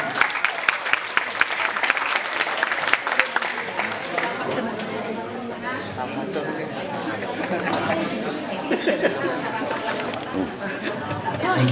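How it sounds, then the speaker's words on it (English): At a community association town fiesta, a crowd claps for the association president, with sharp hand claps in the first seconds giving way to loud chatter and murmuring voices as the clapping thins. "Let's give a big round of applause to Mr."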